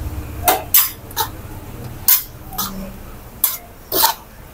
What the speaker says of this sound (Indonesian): Kita kacau slow-slow guys supaya nasi dia tak tumpah